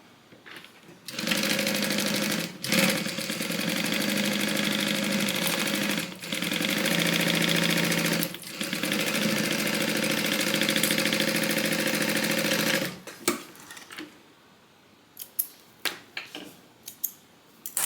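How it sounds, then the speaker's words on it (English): A sewing machine stitches a 3/8 inch seam on a divider bag, a steady close whirring hum in long bursts with brief pauses, then stopping for small clicks and handling noises. "We're gonna sew that with a 3/8 inch seam allowance."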